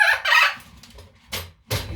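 Pet birds cluck in short loud indoor bursts, three separate clucking calls with pauses between them and no talk over them.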